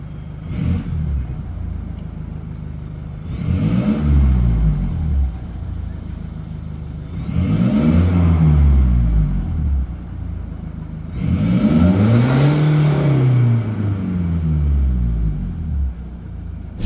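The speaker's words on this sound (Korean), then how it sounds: "배기음부터 들어보시죠." A G4 Rexton SUV with dual gold exhaust tips revs repeatedly, about four deep surges that rise and fall in pitch, loud and close, with a steady idle rumble between them.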